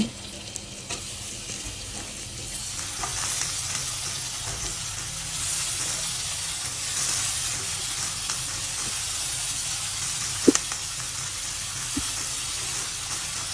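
Hilsa fish head sizzles steadily in hot oil, with gourd peel and potato added to the pan. The frying hiss holds a constant level throughout, marked by a couple of sharp utensil clinks near the end.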